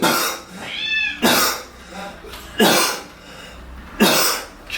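A cat's drawn-out meows and yowls, repeated several times with short pauses, loud and close, mixed with a few harsh coughing-like bursts.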